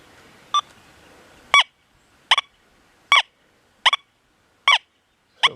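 A Deus 2 metal detector in General program, set to a high notch, sounds its target tone over a buried dime. Six short, clear beeps repeat at roughly even intervals against quiet background hiss.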